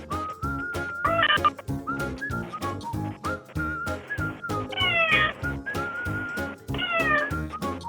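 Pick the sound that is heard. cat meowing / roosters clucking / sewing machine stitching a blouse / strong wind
cat meowing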